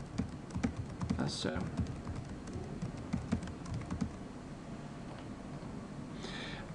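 Rapid, uneven clicking of computer keyboard typing while a web page's text is edited, steady and close, with a faint voice briefly underneath.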